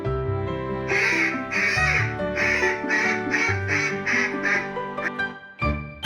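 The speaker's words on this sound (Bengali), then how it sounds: "সাদা হাঁসকে ইংরেজিতে বলে হোয়াইট ডাক" A run of loud, nasal white duck quacks in quick succession, backed by gentle music, ending with a short pause and one final call.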